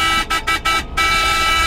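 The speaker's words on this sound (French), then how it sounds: "Je klaxonne la dameuse." Horn of a snow groomer on a mountain slope, sounded in four short loud honks followed by one longer blast, close by and with no talking over it.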